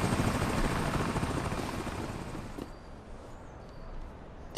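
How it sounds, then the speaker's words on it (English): A helicopter in the video game American Arcadia, its steady rotor chop and engine drone loud at first and gradually fading as it moves away. "Wow, is that a helicopter after me?"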